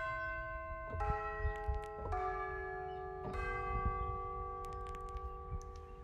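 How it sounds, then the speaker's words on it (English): Several sampled tubular bell strikes from an orchestral sample library, each ringing out with long shimmering sustain that overlaps the next, played at a moderate pace with no voices. "We have tubular bells."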